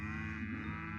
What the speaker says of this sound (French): ça me régale les vaches